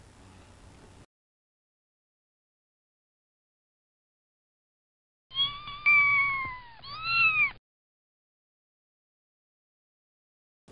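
Two close cat meows in quick succession, clear and rising then falling, standing alone between stretches of silence with a faint noise at the very start.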